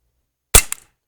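A CO2-powered 4.5 mm air pistol fires into a chronograph, heard as one sharp, loud pop with a quick smaller crack just after, alone in silence.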